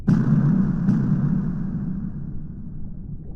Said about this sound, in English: The explosions were getting closer.